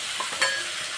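Chopped onion dropped into a pan with diced potato, giving a bright sizzling hiss over about a second with a short scrape in the middle.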